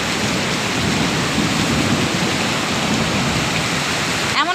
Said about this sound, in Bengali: এমন বৃষ্টিতে ভিজতে সবারই ভালো লাগে,